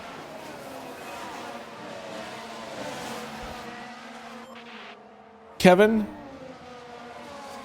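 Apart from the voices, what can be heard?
race car driving, from F1 Manager 2023 video game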